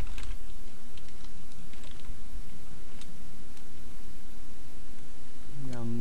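Computer keyboard typing comes in quick irregular bursts of clicks under a steady noisy background, heard while entering commands into an Oracle database session, with someone speaking Turkish nearby.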